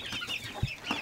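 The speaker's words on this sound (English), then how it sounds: "We have chickens," Chickens clucking on an organic farm, a few short soft clucks scattered through a faint, busy outdoor background.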